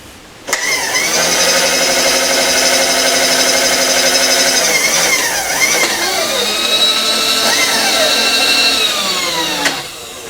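A steady mechanical whine of a 0.200-inch drill bit drilling runs for about nine seconds, loud and close, with pitch shifting slightly midway before cutting off sharply.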